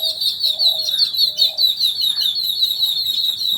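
Small birds chirp loudly and continuously nearby, a dense, rapid twittering with a few lower calls mixed in.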